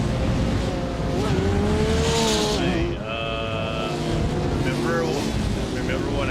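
Sim racing cars in an esports race at the Red Bull Ring pull away at the start, engines droning and rising in pitch through gear changes, with tire noise and a commentator talking over the pack.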